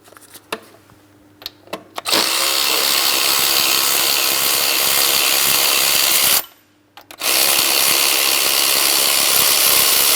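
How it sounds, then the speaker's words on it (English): A power tool whines steadily as it backs out an 18mm mounting bolt from an ignition coil bracket on a 2003-2007 Cadillac CTS 3.6L V6, running loud and continuous, pausing briefly, then resuming after a few opening clicks. "Let's remove that bolt and this bracket."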